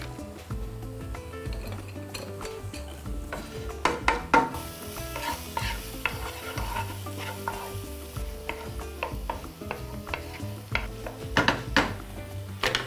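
Chopped onion with a pinch of baking soda sizzling in a pan, with a steady fry broken by repeated scraping stirs and light clinks of a utensil against the pan.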